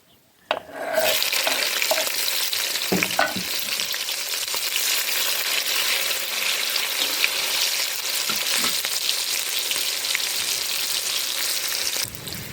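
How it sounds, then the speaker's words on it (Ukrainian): Chopped onion fries in a kazan with a loud, continuous sizzle close by, broken by a few faint stirring clicks and scrapes. "Так, наша цибулька обсмажилась"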